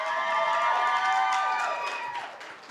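An audience at a media predictions awards event cheers loudly, with sustained whooping, shouting and clapping from a crowd that gradually tapers off toward the end.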